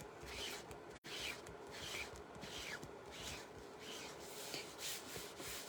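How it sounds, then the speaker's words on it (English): Soft, continuous scraping rub of a squeegee pushed across a Chalk Couture stencil laid on an ink mat, repeated strokes close and quiet, with one brief pause. "take a squeegee and just go over top"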